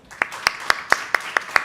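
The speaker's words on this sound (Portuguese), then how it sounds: "Uma salva de palmas, né?" Rhythmic, evenly spaced hand claps, about seven sharp strokes in quick steady succession, from an audience at a public hearing on the mental health of education professionals.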